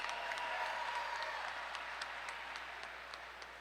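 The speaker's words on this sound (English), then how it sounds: "As always, fight fans, a round of applause for two great warriors and one hell of a contest." A crowd applauds after a three-round MMA fight at a CW 69 event, with steady, dense clapping at moderate distance that fades slightly over a few seconds.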